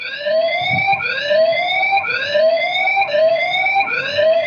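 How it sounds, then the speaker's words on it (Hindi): Siren from a Consistent Mini PT security camera, a loud electronic whooping tone that rises in repeated sweeps about once a second, steady and alone. "इसके सायरन की आवाज"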